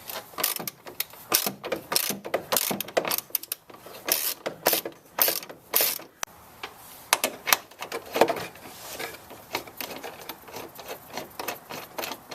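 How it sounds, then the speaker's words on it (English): A ratchet removes 10mm bolts holding the intake housing on a Toyota Tundra, with quick, close clicking bursts in irregular strokes and brief pauses, no talk. "Now we're going to remove a couple of 10mm bolts that are holding on"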